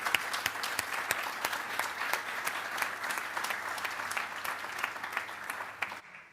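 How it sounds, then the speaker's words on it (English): Audience applause at an industrial policy conference in Portugal honours the organising team and speakers, a steady roomful of clapping with distinct sharp claps over a low hum, stopping abruptly at the end. "So a big round of applause to the team and to the speakers"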